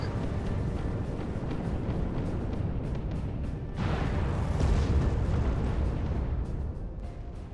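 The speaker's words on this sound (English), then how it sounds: "Don't worry about those unusually large shells. They're just from Gauss cannons." Gauss cannon fire from warships in the space strategy game Sins of a Solar Empire, heavy booming blasts layered over a dense, continuous rumble of battle, steady and loud throughout.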